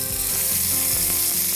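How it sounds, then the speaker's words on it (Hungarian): Zander fish roulade frying in very hot butter, a loud continuous sizzle with no talk. "Teljesen forrónak kell lenni a vajnak, szépen piruljon a hal"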